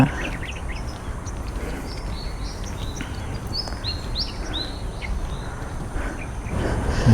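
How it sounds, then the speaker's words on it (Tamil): Birds chirp and whistle in short, scattered calls over a steady outdoor hiss at Jurong Lake Gardens, Singapore, fairly faint and unhurried, with no one talking. "என்ன அமைதியாக வெறும் பறவைகள் சத்தம் மட்டும்தாங்க கேட்குதுங்க"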